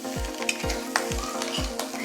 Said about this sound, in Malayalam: നന്നായിട്ട് ഇളക്കി നമുക്ക് ഫ്രൈ ചെയ്തുകൊണ്ടേ ഇരിക്കാം കേട്ടോ